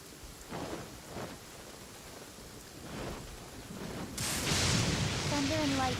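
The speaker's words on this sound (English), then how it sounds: "Thunder and lightning can be quite frightening" A Genshin Impact thunderstorm pours down with steady hissing rain and low rolling thunder rumbles, growing into a louder rush of rain toward the end.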